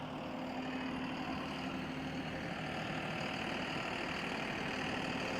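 A farm tractor idles steadily, a low continuous engine rumble with a faint tonal hum, moderately distant and unchanging throughout, with no voices.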